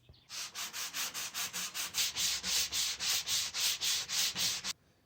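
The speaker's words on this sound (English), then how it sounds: "it should make a difference if I sand that down a bit" Steady rhythmic sanding of wood, about eighteen quick back-and-forth strokes, close and loud, stopping abruptly at the end.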